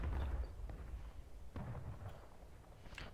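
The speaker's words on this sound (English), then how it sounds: "cannonball explode in the air? It's pretty fun." Cannon fire and an airburst cannonball in the Civil War video game War of Rights during a night battle: a heavy boom at the start, then sharp bursts and distant pops over a rumbling background.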